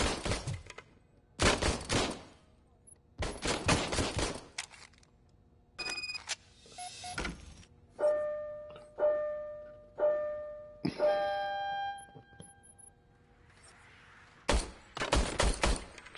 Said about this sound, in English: Now we'll do it again with his gun.